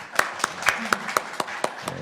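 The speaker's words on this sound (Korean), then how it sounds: "우리 박찬대 위원님한테 큰 박수도 부탁드립니다." Rhythmic, evenly spaced claps, about four per second, come through sharply and fairly close at a Korean post-pandemic education innovation forum, with faint voices underneath.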